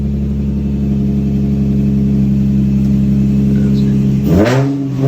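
A 2006 Infiniti G35 with an aftermarket exhaust and 167,000 miles idles loudly and steadily on a cold start, then gives a single sharp rev near the end. No talking is heard.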